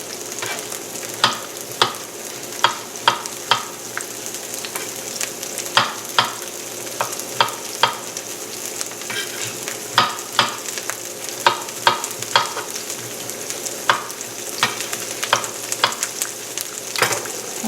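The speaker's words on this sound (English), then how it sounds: "our asparagus has been sauteing for a while" Asparagus sizzles steadily in a hot pan, with frequent sharp clicks and scrapes of a utensil stirring, close and fairly loud.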